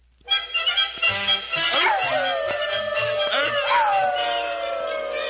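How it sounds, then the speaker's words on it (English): Four watchdogs howl and bark together in a loud, overlapping chorus, with long rising and falling howls over choppy yips, close by and sustained. "Well, look at those 4 watchdogs over there. Wonder what they're howling about."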